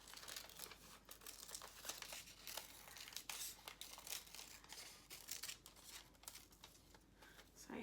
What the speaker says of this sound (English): I'm going to cut those yellow ones out too.